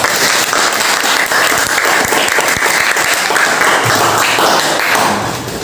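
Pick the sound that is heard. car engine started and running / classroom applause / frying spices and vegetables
classroom applause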